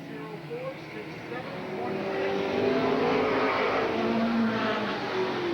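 Race cars at Eugene Speedway weave through slower traffic, their engines droning steadily and building to a louder sustained roar over the final seconds, heard at a moderate distance.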